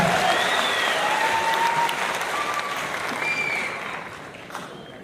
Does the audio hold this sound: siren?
no